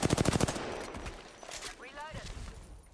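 Rapid automatic gunfire in a competitive shooter game, a fast burst of closely spaced shots at the start, then scattered fainter shots and game effects while players talk.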